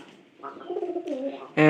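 Pigeons coo in a series of soft, low rolling calls at close range, with a louder burst of sound cutting in at the end.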